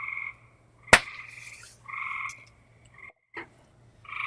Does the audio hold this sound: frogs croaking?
yes